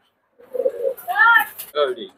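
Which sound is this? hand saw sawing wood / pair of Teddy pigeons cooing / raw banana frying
pair of Teddy pigeons cooing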